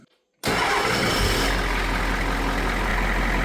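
The engine of a truck called Big Red, restarted after four weeks, cranks and catches, then settles into a steady, loud idle that carries on alone to the end.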